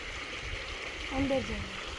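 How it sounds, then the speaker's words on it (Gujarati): A stream fed from the Gir forest pours into a vast lake, making a steady rushing, gurgling wash of water at moderate distance; a brief voice-like murmur rises briefly partway through. "આ ઝરણું છે"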